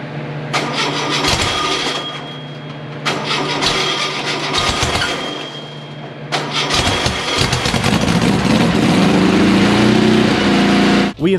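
A rebuilt VW Bug engine cranks loudly in two separate bursts of starter churning, then catches on the third try and runs at a raised, steady idle for cam break-in.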